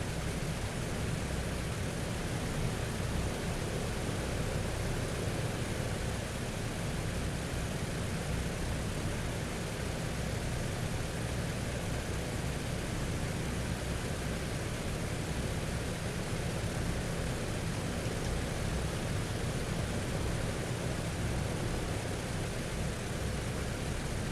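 A PMDG DC-6 piston airliner taxis in Microsoft Flight Simulator, heard as a steady, even, broadband engine roar that stays constant and unbroken throughout with no talk.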